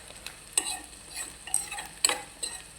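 Onions fry in a pan on a gas stove, a soft sizzle punctuated by several sharp scraping stirs of a utensil against the pan, close and fairly quiet with no talk.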